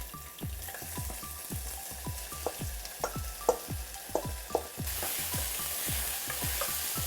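Garlic and onions frying in cumin-infused oil with a steady sizzle, punctuated by regular rhythmic scrapes and knocks of a spoon stirring the pan, close by and without speech.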